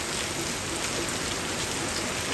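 Steady rain hissing down onto a surface, a dense wash of drops with no voices, continuous and fairly close throughout.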